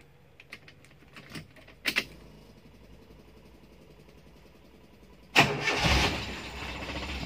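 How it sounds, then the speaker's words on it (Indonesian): A Toyota All New Avanza on racing rims, left unstarted for two weeks, has a few faint clicks before its engine cranks and catches with a loud burst, then settles into a steady idle. "Mesin masih terjereng."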